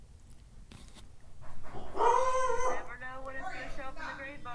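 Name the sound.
dog Oreo barking and howling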